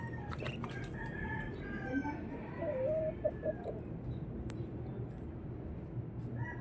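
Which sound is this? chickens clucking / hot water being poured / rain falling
chickens clucking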